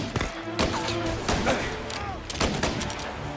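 Gunfire erupts in a Mafia Definitive Edition shootout, with several sharp, loud shots spaced irregularly amid overlapping character voices and other game noise.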